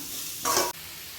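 Vegetables for veg fried rice frying in a pan, a brief burst of sizzle over a low background hiss.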